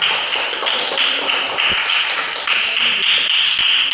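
Steady, dense hand clapping from a classroom group fills the space for several seconds, bright and continuous at a fairly loud level with no talk over it.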